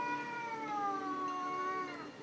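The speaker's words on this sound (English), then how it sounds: "now there's another cat in here." A cat gives one long, drawn-out meow close by, a sustained wavering cry with no talk over it.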